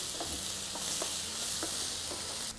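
Onion sautéing in coconut oil for tilapia fish masala, a dense close sizzle with a few soft stirring taps over under three seconds.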